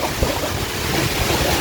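Strong wind gusts roar and buffet the microphone outdoors near avocado trees, a dense, continuous rushing noise with no voices.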